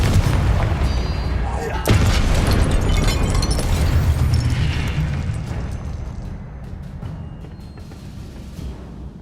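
A Confringo fire-blast spell from Hogwarts Legacy booms loudly at about two seconds, set in a dense, noisy game mix of crackling effects and low rumble that slowly fades, with voices shouting in the middle of it.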